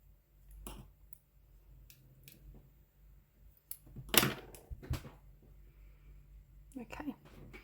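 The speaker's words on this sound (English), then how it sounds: "I'm just going to just weave that in a little bit, and then I'm just going to snip it." Scissors snip a yarn tail end while crocheting, a few quiet close clicks and one sharper cut, with brief soft talking around them.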